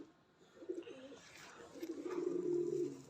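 Red-eyed pigeons coo quietly, with low, rolling murmurs that rise into a longer, fuller coo toward the end and stay faint and close.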